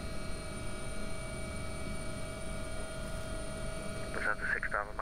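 AW-139 air ambulance helicopter in the X-Plane 11 flight simulator, its rotor and turbine giving a steady droning hum with fixed whining tones throughout, a voice talking briefly near the end.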